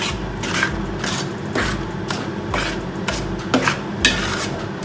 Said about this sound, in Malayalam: അതുവരെ നമുക്ക് ഇളക്കിയെടുക്കാം